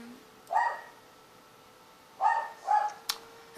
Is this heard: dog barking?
yes